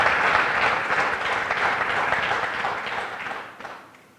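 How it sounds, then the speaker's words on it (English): Dense audience applause at a high school recognition ceremony honoring top students, many hands clapping steadily and loudly before tapering off at the end. "I want to have everyone give them one more round of applause about being the top 10 students."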